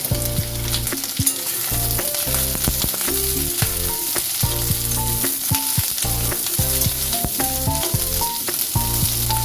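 Cubed onions and capsicum fry in a pan for soybean dopiaza, with a loud, constant sizzle and frequent clattering spatula strokes against the pan in an uneven rhythm, close and without any talking.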